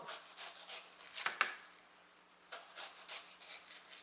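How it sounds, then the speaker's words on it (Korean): A knife slicing pear and tangerine on a board, with soft rhythmic scraping cuts in two short bursts separated by a quiet pause, close and faint. "자 배도 썰고 자 귤도 귤도 귤도 썰고"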